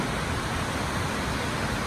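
A small waterfall on the Madison River in Yellowstone rushes in a dense, steady hiss of falling water, loud and close, with no other sounds.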